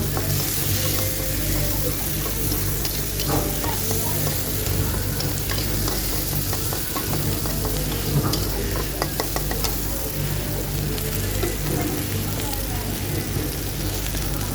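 Green chilies, garlic and chopped onion fry in a pan with a dense, continuous crackling sizzle like rain, close and even for the whole stretch, with occasional stirring scrapes.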